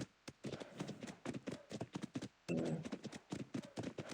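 Horse hooves clip-clop in the Ark survival video game, a quick uneven run of sharp clopping steps close by, briefly overlapped by a snorting whinny midway, with no talking.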